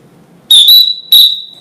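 Two shrill, steady whistle tones sound close and loud, the first split by a short break and the second trailing off, opening a live sports news broadcast from a newsroom.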